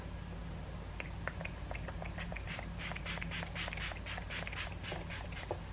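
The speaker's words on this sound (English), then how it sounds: "going to spray my face with something new I got for Christmas" Quiet, quick hisses from a makeup setting spray bottle sprayed onto a face repeat in a rapid series of short pumps, close by and soft.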